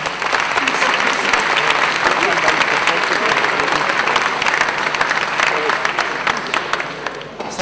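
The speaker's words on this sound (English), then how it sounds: "round of applause" Dense, sustained applause from a conference audience after a JavaScript talk, loud and continuous with overlapping claps, fading slightly near the end.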